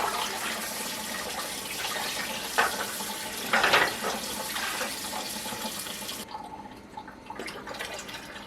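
Tap water rushing into a large canner pot packed with jars, lids and rings for jelly canning, a steady close splashing flow with a brief surge midway, then the stream stops and a lighter trickle lingers.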